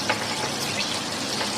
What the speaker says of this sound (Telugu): దోరగా వేయించుకుందాం